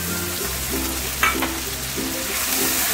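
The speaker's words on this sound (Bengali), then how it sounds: "টমেটো বাটা দিয়ে একটু ভালো করে নাড়াচাড়া করে নেব।" Ground tomato paste frying and being stirred in a pan, a continuous close sizzle with a brief scrape of the spoon midway.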